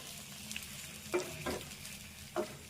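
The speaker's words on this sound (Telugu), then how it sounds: "ఈ ఆలుగడ్డ ముక్కలు వేసుకున్నాక అన్ని అంత ఒకసారి కలుపుకొని స్టవ్ సిమ్లో పెట్టుకొని ఇది మంచిగా ఫ్రై చేసుకోవాలి." Potato pieces fry in a pan for potato rasam, giving a soft, continuous sizzle broken by three or four scraping stirs.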